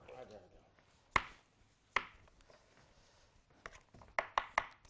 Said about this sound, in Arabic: نقطع البطاطس شرايح عادي عادي اهو